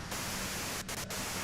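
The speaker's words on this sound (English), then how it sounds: "you can do it through the white noise" Steady radio white-noise static from Disco Elysium, loud and continuous, filling the whole stretch with only two brief dips in the hiss.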